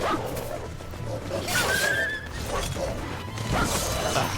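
In the action game Drakengard 3, wolves or dogs attack amid combat. Yelps, whimpers and barks mix with crashing weapon hits, and a voice speaks among them. The sound is loud and chaotic.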